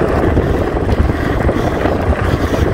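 Wind buffets a microphone outdoors beside a chicken farm, a steady loud low rumble with small gusty swells throughout and no voices.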